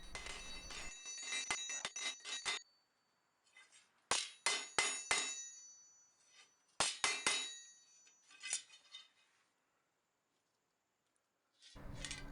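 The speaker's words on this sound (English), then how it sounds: "I just have to clean the tang up a little bit, make it perfectly straight, so I'm going to use a lighter hammer for this." A lighter hammer straightening a forged sword tang on an anvil, with quick bursts of bright ringing taps in clusters of three or four, separated by short silent pauses, close and crisp.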